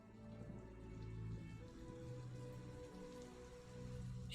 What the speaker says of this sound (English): gentle pitter-patter of rain overhead